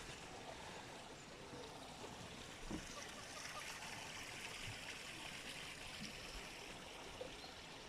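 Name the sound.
water springing and trickling at a pond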